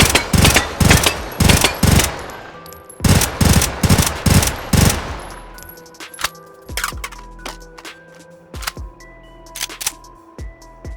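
Loud bursts of SMG fire from a Call of Duty Black Ops III gun in the H3VR video game, several rapid automatic strings in a row, then quieter clicks and mechanical handling sounds.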